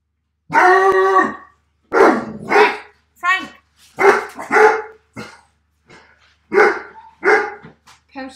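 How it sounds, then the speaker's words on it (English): A dog barks in a home kitchen during a baking session: a series of sharp, loud barks in short bursts, close by, with people talking around them. "Sorry about the dog"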